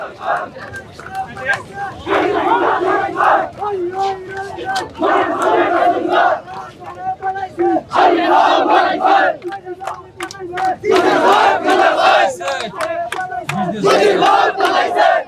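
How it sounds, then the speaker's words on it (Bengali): Thousands of young people chant slogans in rhythmic bursts in front of parliament, loud massed voices rising and falling in waves over a dense crowd murmur in open air. "সংসদ ভবনের একেবারেই সামনে চলে এসেছি যেখানে হাজারো তরুণ স্লোগান দিচ্ছে"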